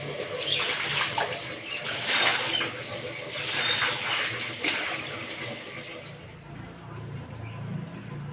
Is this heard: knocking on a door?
no